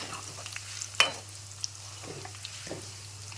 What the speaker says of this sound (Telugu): ఆవాలు చిటపట్లాడుతున్నప్పుడు ఫ్లేమ్ ఆఫ్ చేసేసుకుని ఎండుమిరపకాయలు వేసుకోండి ఆ వేడికి వేగిపోతాయి ఎండుమిరపకాయలు